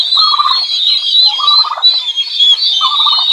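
Turkeys gobble on a small backyard farm, three distinct rattling gobbles spaced about a second apart, close and loud over a steady higher-pitched bird chatter.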